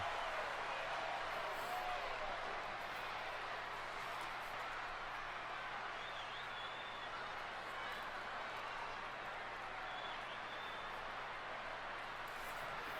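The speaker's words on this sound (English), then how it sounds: "The crowd excited now, boy. That crowd is pumped up now." Arena crowd at WrestleMania VI roaring as a wrestler enters the ring, a dense continuous wash of cheering and noise that holds steady throughout, with commentary faintly beneath.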